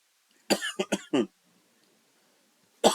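A person coughs in a quick burst of four harsh coughs, then after a pause gives one more, close and loud in an otherwise quiet room.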